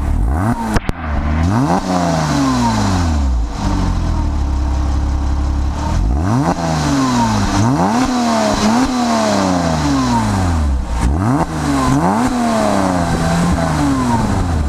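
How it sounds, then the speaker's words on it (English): A car exhaust recorded up close on a GoPro camera, loud and continuous, with the engine revving up and dropping back several times in rising and falling sweeps and no talk. "point it at a car exhaust and then you want to record some of the audio from the car exhaust"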